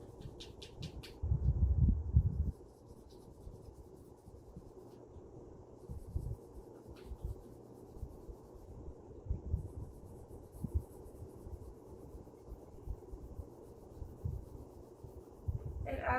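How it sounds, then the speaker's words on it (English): A pencil lightly rubs over paper laid on a leaf, soft scratchy strokes in bursts, a louder stretch early on, then quieter intermittent scraping throughout. "I'm just going to take my pencil and I'm going to lightly go over this"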